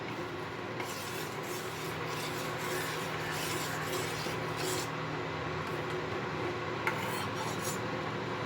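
Milk for kheer, with crushed cardamom, is stirred in a pot, giving a steady close scraping and rubbing of a utensil against the metal over a constant low background hum, and no one speaking.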